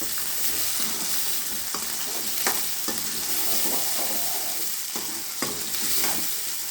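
Whole small onions sautéing in a pan, a steady close sizzle broken by repeated stirring scrapes and taps of the spoon, with no voices.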